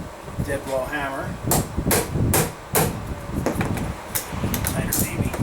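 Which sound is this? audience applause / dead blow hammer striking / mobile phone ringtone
dead blow hammer striking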